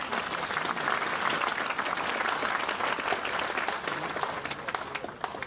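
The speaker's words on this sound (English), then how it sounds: "So please give a big round of applause for sir." An audience gives a dense, steady round of applause after a special lecture at a university, many hands clapping continuously at moderate loudness for several seconds with no speech over it.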